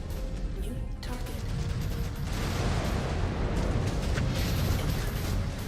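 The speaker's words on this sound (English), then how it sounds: "Incoming missile." Missile explosions in the mech combat game MechWarrior 5: Clans, a sustained rumbling roar of blasts and debris with heavy low-end, continuous and dense throughout.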